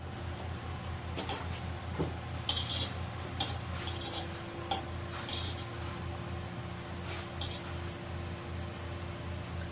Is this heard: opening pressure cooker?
yes